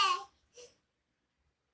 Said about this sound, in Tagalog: yun ubo eh.